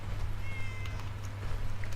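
A cat meows a few times in Fallout 4, a faint mewing set over a steady low hum and soft game ambience, with no talking.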